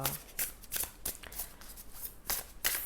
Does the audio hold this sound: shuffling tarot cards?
yes